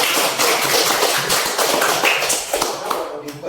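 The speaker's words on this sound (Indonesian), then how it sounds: "Ya, tepuk tangan." Students clapping their hands together, dense rapid overlapping claps filling a room at close range, with faint voices mixed underneath.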